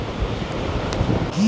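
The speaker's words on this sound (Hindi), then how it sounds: "ये बहुत तेज़ हवा चल रही है।" Strong desert storm wind near Jaisalmer roars and buffets across the microphone in a steady, rumbling rush, with gusty surges and no voices.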